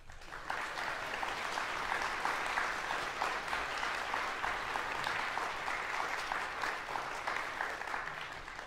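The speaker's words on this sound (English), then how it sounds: "how about a round of applause for this ensemble?" Concert audience applauding a wind ensemble, a steady, even wash of many hands clapping at moderate distance, sustained throughout without voices or breaks.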